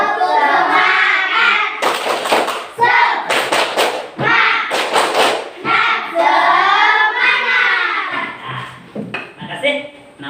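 Students in a classroom doing the rhythmic tepuk semangat spirit clap, loud group claps in patterned bursts alternating with children chanting together in unison.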